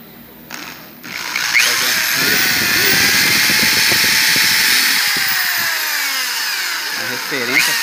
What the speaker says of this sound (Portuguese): Eu faço um furo aqui com a máquina de furar, com a broca